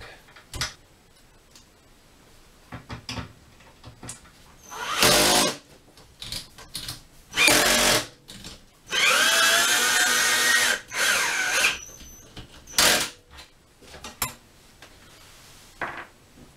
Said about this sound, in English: I'll be able to use a self-tapping screw now and mount another one from the bottom here.